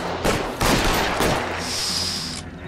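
Gunfire in the crime video game L.A. Noire: a few loud, sharp shots ring out in quick succession over steady game ambience, followed by a lingering high-pitched tone, with no one speaking.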